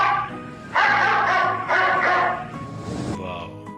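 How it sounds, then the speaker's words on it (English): A dog gives two long, loud barking bursts back to back, followed by quieter yips and whimpers that trail off, heard close and fairly clear. "This is beautiful dog."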